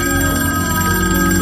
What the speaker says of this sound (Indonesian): Frontman mendapatkan telepon dari Kapten Park